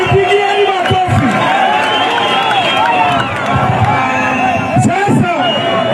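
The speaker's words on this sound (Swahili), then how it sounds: "Jipigieni makofi. Jipigieni makofi." A large outdoor crowd at a political rally in Kitengela, Kenya roars and cheers loudly, with overlapping shouts and whoops and a few heavy thumps throughout a continuous, dense din.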